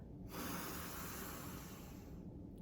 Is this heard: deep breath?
yes